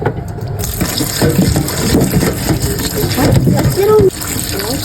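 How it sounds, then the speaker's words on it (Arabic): Water poured into a cooking pot while preparing a quick pasta sauce in a home kitchen, a steady gushing fill that runs for several seconds close to the microphone, with a person talking over it. "في نفس ذات الحله هننزل بكوبايه وربع من الميه"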